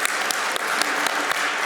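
Audience applause closes a Freemasons' conference at a conference centre, a brief burst of dense, even clapping heard close and alone.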